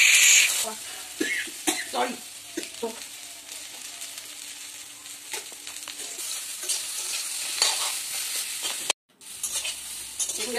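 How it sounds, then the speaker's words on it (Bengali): Food frying with turmeric in a pan, a loud steady sizzle with repeated scraping stirs of a spatula, continuous throughout apart from a brief break near the end. "এইবার আমি কিন্তু খুব ভালোভাবে, আর হলুদটা যে আগেই দিয়ে দিলাম, খুব ভালোভাবে ভেজে নিই।"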